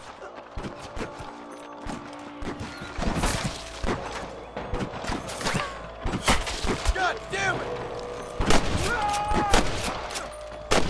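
Gunfire shootout in the video game Red Dead Redemption, with scattered loud shots and bursts coming in irregular clusters, plus thuds and impacts, while someone shouts and other voices talk over the action.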